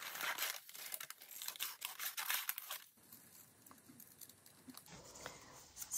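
Scissors cut through thin printed deli paper with soft crinkling and snipping, busy and fairly loud at first, then quieter, sparser rustles as the cutting continues up close.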